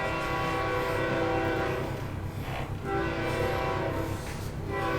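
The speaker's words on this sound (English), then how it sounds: "Surprise cameo from a train." A train horn sounds loudly and steadily across the whole stretch, layered over the rumble of passing rail cars, with no voices.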